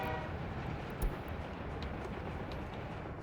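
Trains in a simulation game rumble along as a continuous dense low roar, with a brief thump about a second in and faint high squeals above the steady noise.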